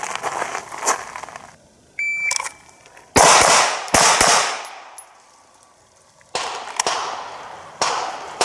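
Loud shotgun blasts fired at targets outdoors, several sharp cracks with ringing decays, some in quick pairs and others spaced a few seconds apart.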